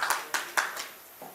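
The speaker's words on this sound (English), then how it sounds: "Okay, clap for Mr. J, please." Gala audience in a banquet hall clapping in a few separate bursts, scattered hand claps fading off toward the end, with no talk over them.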